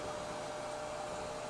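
Close, steady roar of a hair dryer blowing air to flash-dry freshly painted bass baits, unbroken and with no voices.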